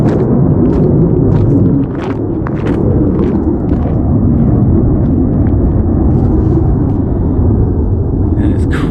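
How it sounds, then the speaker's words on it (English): A jet aircraft passes overhead beyond a line of trees on a breezy day, making a loud, continuous broadband roar that holds steady for the whole stretch. "Freaking jet flying by."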